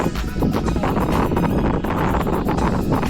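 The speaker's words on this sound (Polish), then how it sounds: "Strasznie wieje." Strong wind buffets the microphone atop an observation tower on a cold day, a loud continuous roar with gusty rushes throughout.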